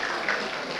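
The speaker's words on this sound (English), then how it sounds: "Now you can put your hands together now." Steady dense clapping from a graduation ceremony audience in Madurai, continuous and even throughout the short stretch with no pauses.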